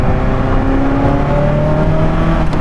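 A Ferrari F40's turbocharged engine on boost, a loud, close, gravelly roar with rising tones as it pulls hard, heard alone without voices.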